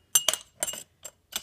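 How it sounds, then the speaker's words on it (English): Metal suppressor clinking as it slides back onto a WE Tech airsoft gas blowback rifle, with four short, sharp metallic clicks and rattles spaced over about a second, close and fairly quiet. "We're just gonna slide the suppressor back on."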